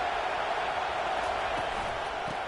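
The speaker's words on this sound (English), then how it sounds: "It is getting loud as this crowd tries to help its defense." A large stadium crowd in a college football video game roars in a steady, unbroken wash of noise, loud and distant-sounding, with no single voice standing out.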